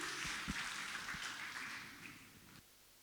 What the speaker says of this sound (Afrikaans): Kom ons gee die Here 'n lekker hande klap